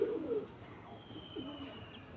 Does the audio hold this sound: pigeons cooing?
yes